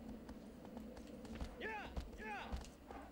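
Horse hooves galloping in the video game Shadow of the Colossus: a steady run of heavy, evenly spaced thuds over a constant background bed, with brief tonal, voice-like sounds rising and falling between the hoofbeats.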